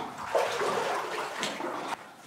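Water splashing and sloshing underfoot in an abandoned gold mine near the portal, a steady close wash of noise with a sharper splash early on and another near the end.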